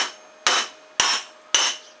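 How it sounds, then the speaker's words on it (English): A decent-sized lump hammer strikes the end of a U-joint clamped across a vise on a 1989 Chevy K5 Blazer, sounding three sharp metallic blows about half a second apart, each ringing out and decaying, with no talk. "you grab a decent sized lump hammer, right? And if you hit here,"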